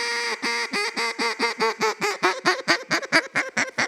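A duck call blown the wrong way, as a rapid string of about fifteen short, choppy quacks that thin out and lose their low end as they speed up. The call is loud and close, with no voices.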